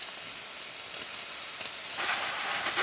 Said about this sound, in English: very powerful steam.